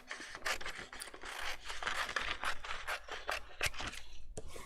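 Scissors cut through a 12 by 12 inch single-sided paper sheet with a white core, a close run of dry, crisp snipping and scraping strokes in steady rhythm, with no one talking.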